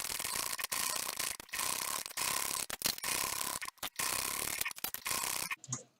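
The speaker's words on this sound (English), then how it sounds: "I'm going to stitch it at top stitch 1/8 inch away from the edge" Sewing machine topstitching a strap 1/8 inch from the edge, a steady buzzing whir of the needle running in bursts with brief pauses, close and faint, no talk.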